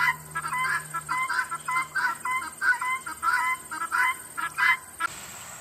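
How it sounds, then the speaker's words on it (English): Guinea fowl out in tall garden grass give loud, close, repeated harsh cackling calls in a fast rhythmic string of about a dozen bursts, stopping abruptly near the end. "the guineas are all out there in the tall grass"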